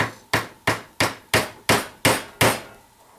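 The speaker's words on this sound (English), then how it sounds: "with our hammer again, we're going to gently tap that wad down until we compress the wad against the powder" Seven evenly spaced, sharp hammer taps drive a dowel down to compress the wad against the powder in a 12 gauge shotgun shell being reloaded, each a crisp close knock with quick decay.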